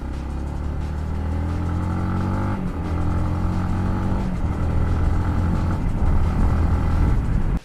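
Motorcycle engine running near and loud, holding a steady note before dropping sharply as it shifts down a gear, then rising again in a strong rev that cuts off abruptly at the end.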